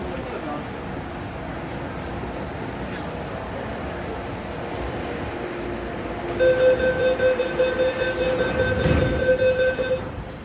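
A subway A train waiting at Olympic Station, a low rumbling hum in the background with no announcement, then a loud tonal door-closing chime and motor whine rising after about six seconds.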